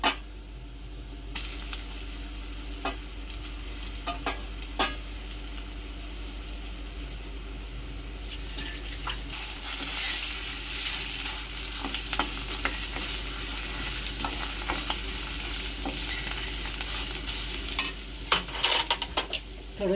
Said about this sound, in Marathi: वाटलेला मसाला पण टाकायचा